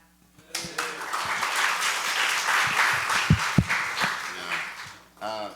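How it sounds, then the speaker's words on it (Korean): A congregation claps its hands together at a Sunday afternoon church service, producing dense, steady applause for about five seconds before a voice speaks at the end. "let's clap our hands to Jesus."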